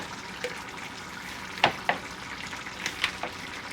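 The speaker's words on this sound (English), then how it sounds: "let's stir our pan, Billie Jean." Thick bolognese sauce with tomatoes being stirred in a pan, giving a soft bubbling sizzle with a few sharp spoon scrapes and clicks against the pan, close and fairly quiet, with no talking.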